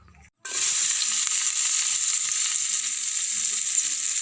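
Garlic and onion hit a hot pan after a brief silence, erupting into a loud, steady sizzle that holds evenly for several seconds with faint stirring scrapes underneath.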